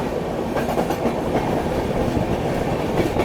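A train rolls along a mountain railway with steady clickety-clack of wheels and a continuous rumbling roar, heard close and sustained without any voices.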